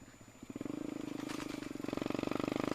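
Motorcycle fitted with 6-inch rim tyres, the Duck Fighter, riding along a quiet road; a steady pulsing engine drone builds from a soft start into a close, loud, rhythmic throb that carries through to the end.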